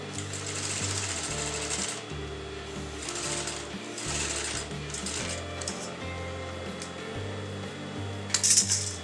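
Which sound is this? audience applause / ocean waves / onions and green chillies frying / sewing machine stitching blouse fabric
sewing machine stitching blouse fabric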